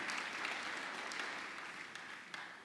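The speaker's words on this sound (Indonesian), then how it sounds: "Tepuk tangan untuk hormat kemuliaan nama Tuhan" A church congregation claps at a New Year service, a steady, moderately distant patter of many hands, fading slightly toward the end.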